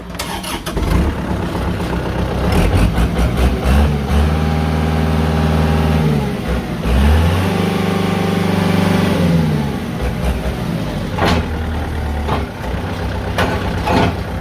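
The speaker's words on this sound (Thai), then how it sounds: "เดี๋ยวเราลองมาสตาร์ทเครื่องยนต์ดูนะครับ" A used Kubota L4708 tractor's diesel engine cranks and catches, then idles with a steady low rumble, revving up and settling a couple of times; loud and close, no talking.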